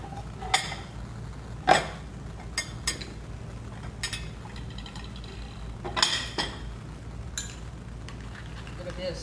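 Plates, pans and cutlery clink and knock sharply at irregular moments while a cooked steak is plated in a kitchen, with a handful of scattered impacts over quiet background.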